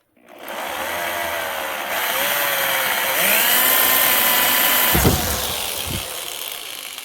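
A power drill with a reverse drill bit whines steadily and loudly while boring into a broken bleeder screw on a Toyota Tundra, its pitch rising slightly, with a couple of knocks near the end.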